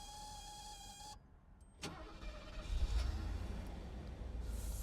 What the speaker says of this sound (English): We'll do a little cold start here for you.